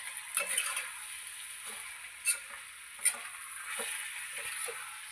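Green beans and carrot fry gently in oil with a soft, steady sizzle, punctuated by a few light scraping stirs of a utensil in the pan.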